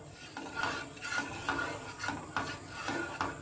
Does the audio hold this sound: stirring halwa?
yes